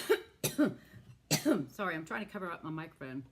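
Several sharp, muffled coughs come in quick succession close to the microphone, followed by a person speaking.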